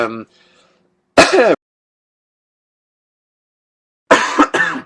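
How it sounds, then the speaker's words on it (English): A few short coughs and throat clears break the silence, separated by quiet pauses, close to the microphone. "Why am I awkwardly coughing?"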